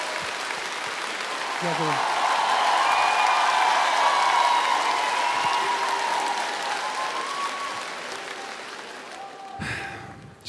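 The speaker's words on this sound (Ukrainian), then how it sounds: "Щиро дякуємо за ваші оплески" A concert audience at a large Ukrainian-language music show applauds warmly for a folk singer, building into a full, sustained wave of clapping, while someone speaks over it and briefly thanks the crowd near the end.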